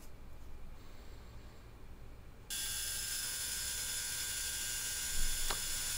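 A brazed carbide 82-degree countersink chamfers a machined steel angle plate, starting as a faint low mechanical hum and then switching to a steady bright, hissing cut with a brief sharp squeak near the end.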